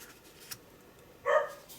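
A single short dog bark from downstairs, faint and somewhat distant, standing out briefly against a quiet indoor background.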